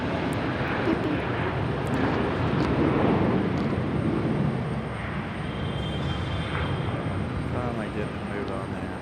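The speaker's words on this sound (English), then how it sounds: "There goes our JetBlue." A JetBlue airliner departs from Raleigh-Durham airport, a broad engine roar that holds strong for a few seconds and then fades somewhat, with faint chirps and a voice in the background.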